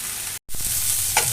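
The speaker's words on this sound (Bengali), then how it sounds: "সময় নিয়ে ভেজে নিতে হবে ভালো করে।" Snake gourd frying in a pan, giving a steady close sizzle that continues almost the whole time, cut by one brief silent gap and a small stirring bump near the end.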